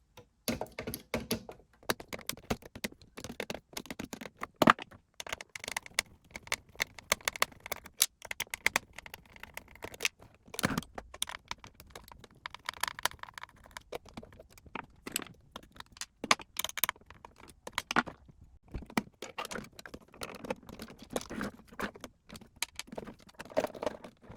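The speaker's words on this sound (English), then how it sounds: "we're going to start off with removing the 4 screws on the bottom here, which holds on the motor block" Four small screws come out of the motor block of a Bachmann Big Hauler United Traction model tram, making irregular light clicks, ticks and rattles of a tool and tiny metal parts, close and quiet.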